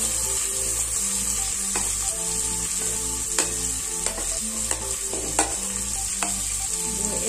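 Cashews and raisins stir-fried in a pan with garlic, onion and peanuts for joha rice pulao, a constant sizzle under repeated scraping strokes of a spatula and a low steady hum, no voices.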